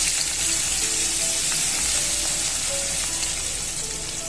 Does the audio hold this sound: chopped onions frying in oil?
yes